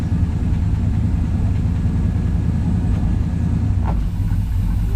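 A 1974 Ford F-250 truck engine runs at a steady, loud low rumble while gears are shifted, with a brief clunk near the end and no talking.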